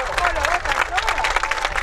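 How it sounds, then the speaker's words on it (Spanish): Stadium crowd applauding as youth football teams walk out before a local league final, a dense continuous clatter of clapping with a loud announcer's voice over it. "Fuerte el aplauso para recibir categorías 2009,"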